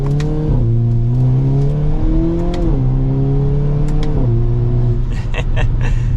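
A 2023 Hyundai Kona N engine revs up through several gear changes, pitch climbing then dropping with each shift, steady and close as the car pulls away.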